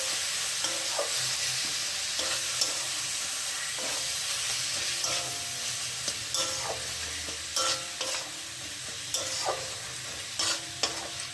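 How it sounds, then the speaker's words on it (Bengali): Ground turmeric and cumin are stirred and fried together in a pan for a chicken kosha, with a steady sizzle and repeated scraping strokes of a spoon throughout. "এবারে সব কিছু আবারও ভালো করে আমি একসাথে নেড়ে চেড়ে নিচ্ছি।"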